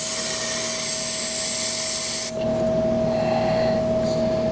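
Cleaner is sprayed into the throttle body of an Excelsior Henderson Super X motorcycle in one loud, close, continuous hiss lasting about two seconds, then cutting off to a low background hum.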